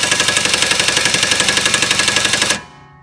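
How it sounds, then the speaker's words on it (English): Pneumatic impact gun hammering a nut onto a control arm on an Infiniti G35. It gives a loud, close, steady rapid rattle for about two and a half seconds, then stops abruptly, leaving a faint hum. "now I'm just running this on with the impact gun once again"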